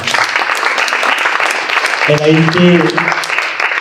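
Audience at a political candidates' presentation in the La Rochelle area applauding loudly, a continuous wash of clapping with a brief musical tone rising through it midway.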